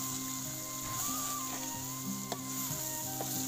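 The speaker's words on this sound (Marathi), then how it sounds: "आता ना चांगली त्याला मिरचीला तडका लागलेला आहे" Green chilies sizzle in hot tempering oil, a continuous close crackle and hiss with small pops scattered throughout, with no talking.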